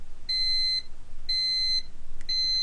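Three evenly spaced electronic beeps from a Thermco ACCRT8002 temperature data logger alarm sound clearly, each a steady high tone lasting about half a second, with no talking.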